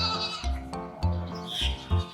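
A goat bleats in several loud, wavering calls close by, each rising and falling in a nasal quaver, one after another with brief gaps between them.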